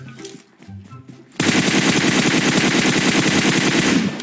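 After a moment of talk, a loud, rapid machine-gun burst erupts and keeps firing steadily to the end in a battle royale video game.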